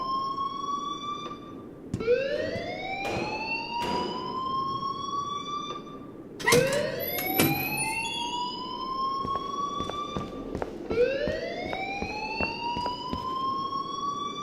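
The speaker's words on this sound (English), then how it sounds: "please turn off that alarm since that's your job" Rising wail of an alarm siren in the video game Life is Strange: three loud upward sweeps that climb and hold a high tone, repeating every four to five seconds, with clicks and knocks in between and no talking.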